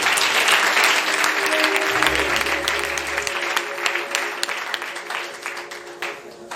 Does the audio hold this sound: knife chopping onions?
no